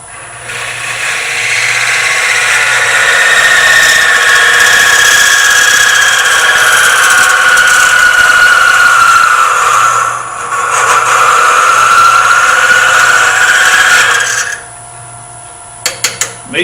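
A wood lathe spins a miniature turning while a modified scraper cuts under its shoulder, producing a steady rasping scrape for about fifteen seconds with one short dip in the middle. The cut stops abruptly near the end, followed by a few light clicks.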